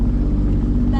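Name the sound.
jet drive personal watercraft engine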